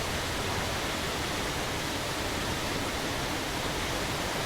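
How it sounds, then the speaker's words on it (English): A waterfall pours in a loud, steady, broadband roar that fills the whole scene without a break. "How do you like this waterfall, Ingvar?"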